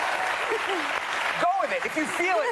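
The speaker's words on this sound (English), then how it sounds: "and you can applaud. You can applaud." A studio audience on a daytime talk show applauds in a broad wash while someone talks over it, her voice rising clearly above the clapping in the second half.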